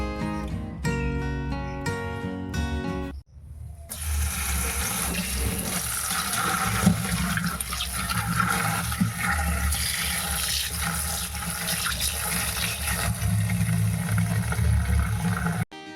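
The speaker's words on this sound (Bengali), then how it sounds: "তাই গিমে শাকগুলো আগে ভালো করে ধুয়ে নিচ্ছি" Tap water runs steadily and loudly while gime greens are washed by hand for cooking, a brief musical jingle giving way to a continuous rushing stream that fills the rest of the scene.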